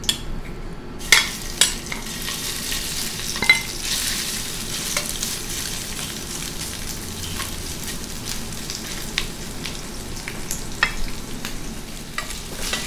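Shrimp fry over medium heat in a pan for a chicken and sugar-pea stir fry, giving a continuous close sizzle with intermittent scraping stirs and pops.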